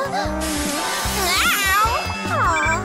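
A cat meows several times in drawn-out, wavering cries over a steady background of other tones.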